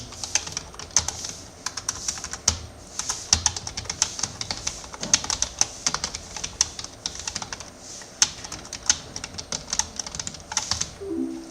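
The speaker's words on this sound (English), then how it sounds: "why are you typing slowly?" Keys clatter steadily on a computer keyboard during a typing test, close and crisp with an even, moderately quick rhythm, no talking.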